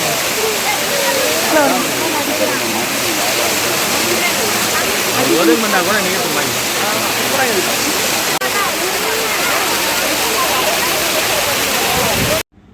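Rushing water at Kodiveri waterfall near the Kodiveri dam, a dense, steady roar of falling and splashing water that stays loud and close throughout, with a crowd bathing in the water and voices faintly mixed into the torrent.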